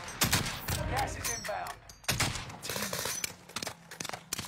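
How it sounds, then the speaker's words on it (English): Sniper shots ring out in a video game set in Caldera, several sharp cracks spaced irregularly over a few seconds, fairly loud against game ambience, with a voice talking between them. "I'm being sniped at from, like, right here"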